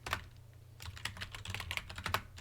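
Quick, irregular clicks of fingers on a computer keyboard during command entry in Debian Linux, a sparse burst followed by a denser run of keystrokes, close and fairly quiet with a low steady hum beneath.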